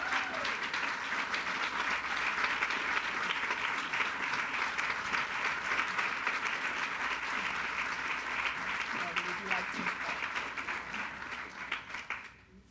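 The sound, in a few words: applause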